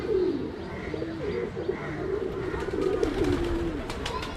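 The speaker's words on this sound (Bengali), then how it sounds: "অনেক ধরনের কবুতর আছে, দেশি, গিরিবাজ আর অনেক ধরনের।" Pigeons at Chittagong Zoo coo in a soft, steady rolling murmur, fairly faint against open-air background noise, with a few light chirps mixed in.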